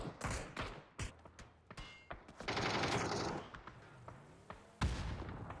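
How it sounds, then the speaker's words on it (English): Explosions and gunfire in an esports video game match: sharp bursts and thumps, then a longer rumbling blast in the middle and another sharp hit near the end, all fairly faint. "Nice nade by Stolzy."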